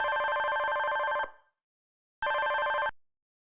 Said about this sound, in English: I was receiving another call from an unknown number